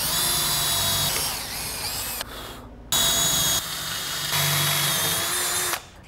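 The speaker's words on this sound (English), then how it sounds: "The clamp is to prevent this from spinning while we're drilling." A power drill whines loudly through clamped scrap metal in several long bursts, pausing briefly between runs, close by with no talking.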